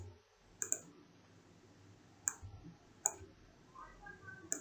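A computer mouse clicks while working in MS Word, with sharp isolated clicks, some in quick pairs, spaced irregularly over a quiet room hum.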